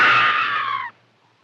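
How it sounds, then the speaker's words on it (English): A woman's high, loud scream from the 1976 King Kong film holds for nearly a second, then cuts off abruptly into near silence. "Scream for your life."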